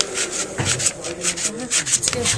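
Rapid back-and-forth scratchy rubbing of 120-grit sandpaper on wood, close up, in a continuous rhythmic stroke pattern.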